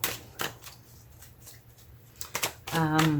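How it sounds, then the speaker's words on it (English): Tarot cards are shuffled by hand in a few quick riffling bursts, close and crisp, before a voice begins talking at the end. "shuffle your tarot cards for the first part of your reading"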